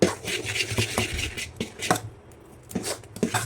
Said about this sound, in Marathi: पूर्ण हलवून घ्यायचं आहे म्हणजे मीठ सगळीकडे लागते